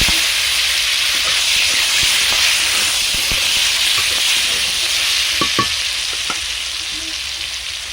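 Chopped tomato, bay leaf, cumin, green chilli and panch phoron sizzling in hot oil, a loud, steady frying hiss close up with occasional crackles and pops.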